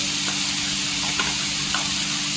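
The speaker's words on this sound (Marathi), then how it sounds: "इथे छान अशी तेलावर परतलेली आहे" Spices fry in hot oil in a home kitchen, giving off a steady close sizzle with a few faint stirring scrapes and no voices.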